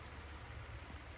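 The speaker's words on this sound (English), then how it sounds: "It's raining in the background, so I hope the white noise is okay for you." Steady rain falls in the background on a farm, giving a continuous soft hiss that stays even throughout and has no other sound over it.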